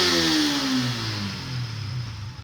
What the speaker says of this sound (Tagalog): rev natin hanggang 12k RPM